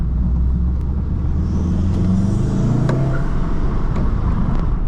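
A 2018 VW Golf R engine revs hard under turbo boost, a loud continuous low rumble that rises in pitch as it accelerates, heard from inside the car with no talking.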